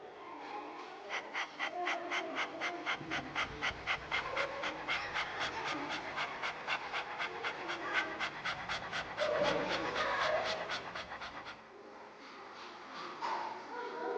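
Rapid, rhythmic dog-breathing pranayama: quick, evenly spaced panting breaths repeated for about nine seconds, close and fairly loud, with quieter breathing before and after. A person imitates a panting dog.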